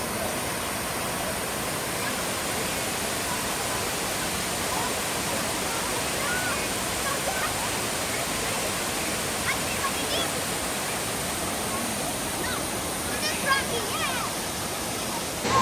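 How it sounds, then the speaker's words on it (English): Steady, dense rushing of a waterfall on Siquijor Island fills the whole stretch, a constant broad roar with no breaks. "Look how pretty that waterfall is."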